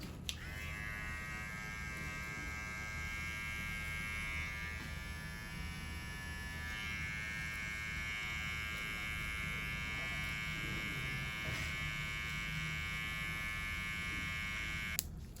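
Electric hair clippers or shaver balding out a low taper fade, a steady close buzzing hum running unbroken throughout with brief clicks at start and end.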